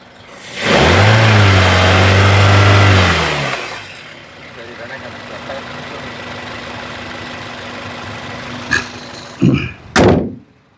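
A car engine roars loudly for a few seconds, then settles into a steady idle hum, followed by a couple of sharp thuds at the end.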